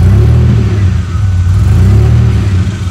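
A DeLorean DMC-12's engine idles loudly nearby, its deep rumble rising and falling in pitch as the revs wander up and down.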